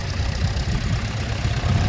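An E27 fitted with a factory P6 engine conversion rumbles past with a low, steady engine drone at moderate level, continuous and without clear gear changes, alone without voices.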